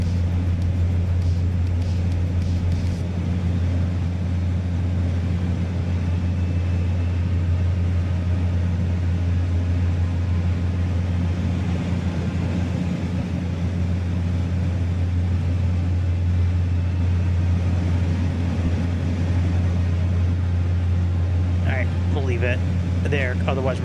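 The Fokker F100 twin jet engines in Microsoft Flight Simulator 2024 give off a steady, loud cockpit drone with a strong low hum and broadband whine. It holds even throughout while someone talks over it.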